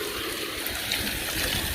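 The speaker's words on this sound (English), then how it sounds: "I'm not sure of, if it's supposed to be splashing the water back to you" A pool spa jet vacuum sprays water back out, a steady trickling and splashing with light gurgles, close by and at moderate volume.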